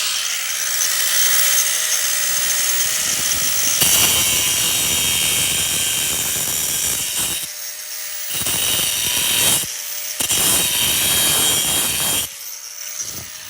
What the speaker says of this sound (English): I'm going to cut around this weld so the pipe could slide off